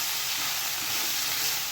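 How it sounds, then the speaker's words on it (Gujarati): Chopped fenugreek leaves hit a hot pan with garlic and sizzle in a steady, dense hiss, close and continuous, with no talking over it. "હવે આપણે સમારેલી મેથીને એડ કરશું."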